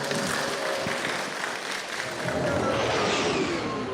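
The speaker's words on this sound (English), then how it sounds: "Give a round of applause for these fine gentlemen." Sustained audience applause fills a fan convention panel room at a Star Wars fan festival, dense and steady throughout with a brief dip midway, a large crowd clapping without speech.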